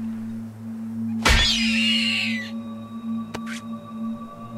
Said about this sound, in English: It's just this eagle flying.